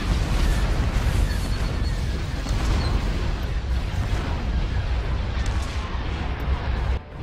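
Continuous roar of cannon fire and explosions fills a Star Wars space battle in a strategy game, dense low rumbling booms running without pause for several seconds before a brief dip near the end.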